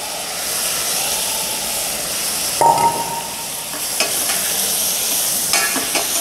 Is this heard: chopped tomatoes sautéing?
yes